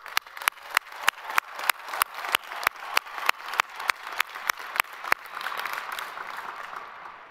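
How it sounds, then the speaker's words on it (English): Sharp rhythmic clapping at a university spring commencement ceremony, about twenty evenly spaced loud claps from a few nearby hands, giving way to a softer, denser wash of crowd applause at the end. "Let's give you one more big round of applause."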